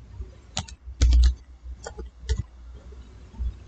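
Someone types on a computer keyboard with a few sharp key clicks and a short cluster of taps, heard up close in a quiet room with no talking.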